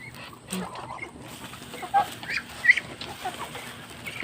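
Chickens clucking in short, scattered bursts at close range over faint background noise, with ducks nearby during feeding of cracked corn.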